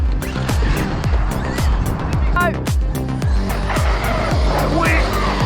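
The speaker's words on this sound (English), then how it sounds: "Around this corner, 4-wheel drift." A Traxxas XRT RC car four-wheel drifts around a corner, its electric motor whining up and down in rapid, repeated revving sweeps, with bursts of tire scrub, loud and close throughout.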